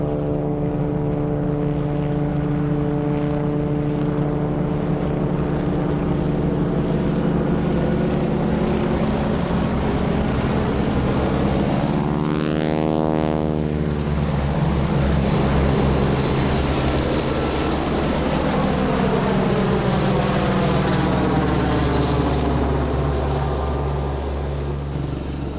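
Fixed-wing aircraft and RAF Sea King helicopters flying past together at Waddington airshow, a loud sustained engine and rotor drone rising and falling as they pass overhead, with a clear Doppler sweep midway.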